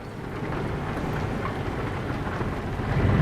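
Steady rain hisses with a low rumbling thunder underneath in the Euro Truck Simulator 2 video game, a continuous, even wash that swells slightly louder toward the end.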